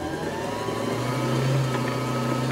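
A Janome My Style 20 sewing machine winds a bobbin with a steady, close motor hum and whir that holds evenly throughout the short stretch, with no voices.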